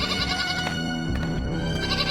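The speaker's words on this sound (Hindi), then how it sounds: "उसकी बकरी उसकी झोपड़ी में ही बंधी होती है और काफी चिल्ला रही होती है।" A cartoon goat tied up inside a hut bleats loudly, several wavering calls in quick succession, close and alone with no talking.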